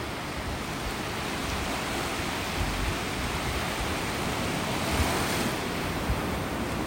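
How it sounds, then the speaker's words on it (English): Strong wind buffets the microphone on a beach in North Naples, Florida, a steady loud roar of rushing air mixed with surf, with no talk. "It's just that wind."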